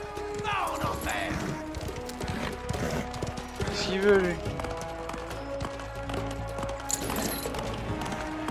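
Horses gallop in a race in the video game Mafia: The Old Country, a steady busy clatter of hooves under game music with a brief whinny, while someone speaks briefly.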